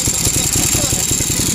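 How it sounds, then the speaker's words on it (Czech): A Ducati Hypermotard 1100 motorcycle idles nearby with a steady, pulsing low throb and even rhythm, running continuously without revving. "Už má skvělá motorka Ducati Hyper."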